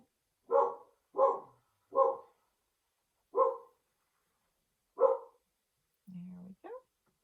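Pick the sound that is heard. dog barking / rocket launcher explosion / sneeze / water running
dog barking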